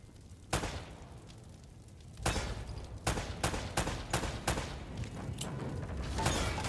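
Gunshots fired at lamps in Uncharted: Drake's Fortune: a single sharp shot, then a quick irregular string of loud reports with short echoing tails, continuing steadily to the end.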